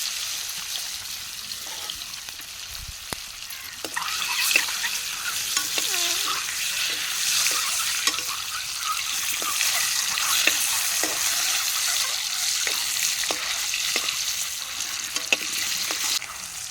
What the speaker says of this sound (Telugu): ఉల్లిపాయలు అయితే వేగిపోయినాయి.